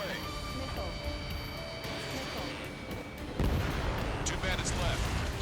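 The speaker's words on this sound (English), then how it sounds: "Missile away." Missile launches and explosions from the air-combat game Ace Combat 7 form a dense, continuous roar of booms and blasts, growing heavier partway through, with game radio voices speaking over it.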